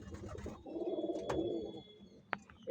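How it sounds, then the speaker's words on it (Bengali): Pet pigeons coo softly and close by in a single low, throaty, rolling call, followed by faint rustling and a sharp brief knock near the end. "এই আমাদের কবুতর আছেন।"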